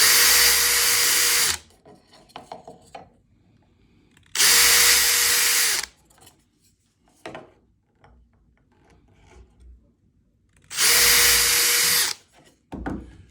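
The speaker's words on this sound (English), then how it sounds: "Pre-drill it with a 1/16 inch" A power drill with a 1/16 inch bit pre-drilling holes in a wooden crokinole board rail, three loud steady whirring bursts of about one and a half seconds each, separated by quieter handling clatter.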